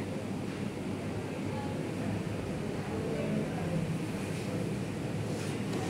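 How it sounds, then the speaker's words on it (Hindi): Keema fries in oil, giving a continuous dense sizzling hiss at moderate level that stays even and unbroken throughout, with no distinct clatter or voices. "अब इस कंडीशन में आके हम इसमें ऑयल ऐड करेंगे और अच्छी तरह ऑयल में इसकी भुनाई करेंगे।"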